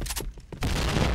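AWP sniper rifle shot in a Counter-Strike match, a single sharp crack at about 0.6 seconds followed by a loud sustained burst of in-game gunfire and chaos that continues to the end, with quieter game sounds beforehand.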